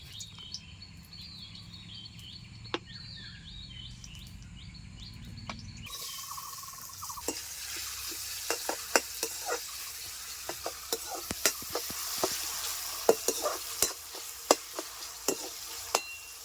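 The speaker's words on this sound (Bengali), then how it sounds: "দিয়ে দিচ্ছি সাদা তেল এখন আমি বেরেস্তাটা বেজে নেবো" Onions frying in white oil to make beresta for an egg and potato dish. A soft stirring and scraping comes first, then a louder steady sizzle starts with sharp utensil taps and clicks, alone and close.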